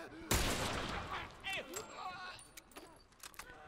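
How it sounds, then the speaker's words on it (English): Hunting rifle gunshots in The Last of Us Remastered at a lake resort mill, with one sharp, loud shot followed by fainter reports and clatter as the sound fades out. "That's why I took a few shots there to get these guys out."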